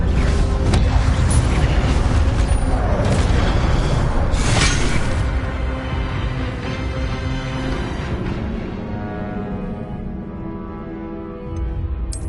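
Fire spell cast in Hogwarts Legacy: a loud sustained roaring whoosh of flame with crackling bursts and a sharp flare midway, gradually fading over several seconds.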